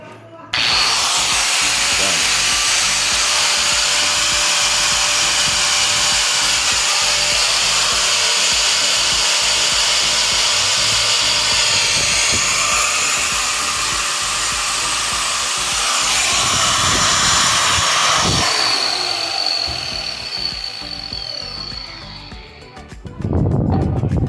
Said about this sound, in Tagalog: at ay gumana rin ang aking grinder